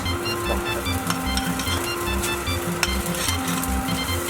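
Eggs stir-fried with rice in a pan, sizzling loudly and steadily while a utensil scrapes and taps, with a steady low hum beneath and no voices.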